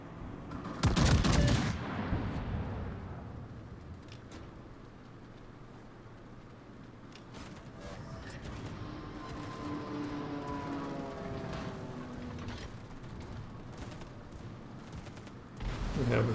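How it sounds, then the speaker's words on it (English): Battleship gunfire in the naval video game World of Warships: a loud boom opens the stretch, a steady rumble of distant fire and engine noise follows, and another blast lands at the end. "The Montana is shooting at us."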